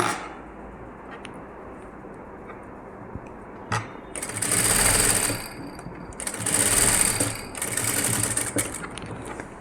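Sewing machine stitching a blouse with Aari embroidery, quiet at first, then three loud whirring runs separated by short pauses over a low background hum.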